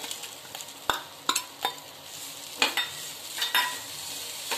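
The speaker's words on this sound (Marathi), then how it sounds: "मी खवलेला नारळ टाकते। आपण छान परतून घेते।" Grated coconut and jaggery filling being stirred and sautéed in a pan for a Ganesh Chaturthi offering, with a soft steady sizzle broken by several sharp scraping strokes of the spoon, close and alone.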